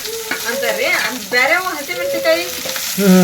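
Chopped garlic and capsicum sizzle and hiss steadily in a frying pan as they are stirred, with a voice faintly audible underneath.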